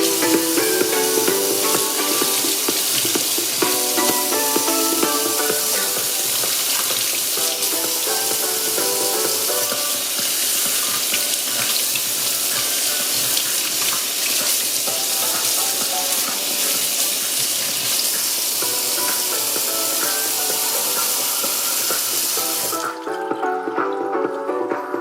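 Water pours continuously over a pair of stereo-paired waterproof AOMAIS Bluetooth speakers, a loud splashing rush over the speakers' playback, and it cuts off near the end.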